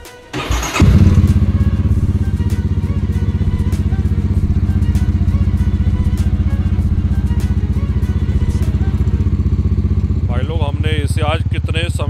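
A motorcycle brought out after three months of sitting unused starts with a thud and settles into a loud, steady, close idle. Someone talks briefly over the engine near the end.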